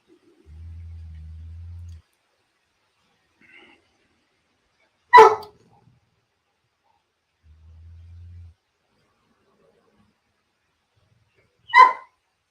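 A dog barks twice, one sharp bark near the middle and another near the end, with a low rumble in the quiet gaps between.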